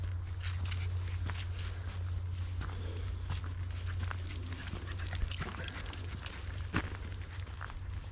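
Dogs on an autumn walk through a park with fallen leaves and dying ferns, their footsteps rustling and crunching steadily over the leaf litter, with a constant low hum running underneath.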